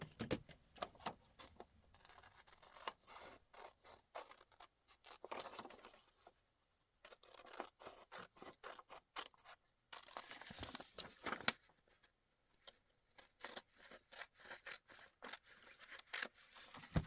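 Scissors cut a piece out of a magazine page: close, faint snips in irregular clusters with short pauses and light paper rustling between cuts.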